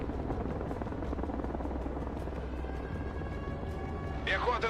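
A helicopter in a video game gives a steady rotor thrum throughout, with some game noise rising near the end.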